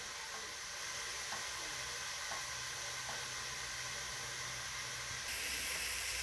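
Onions frying in a pan, a steady close-up hiss and sizzle that holds constant throughout and swells slightly louder near the end.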